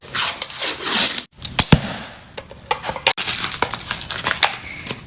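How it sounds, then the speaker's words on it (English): A can of refrigerated biscuits is opened, with a sharp pop and crackling tears among short clicks and rustles of handling, heard close on a kitchen counter with no talk. "Open up your biscuits."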